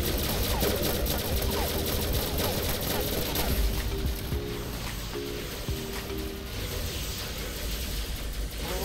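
Rapid sustained gunfire from the 3299 gun in the game XShot during a world boss fight, dense mechanical bursts with clattering and beeping effects layered over constant background game sound.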